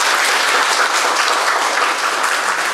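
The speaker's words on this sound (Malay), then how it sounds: "Marilah kita tepuk tangan sedikit dalam hari ini" An audience applauds a governor's speech at the PWI office in Banda Aceh, a dense, steady wash of many hands clapping loudly and close throughout, with no voices over it.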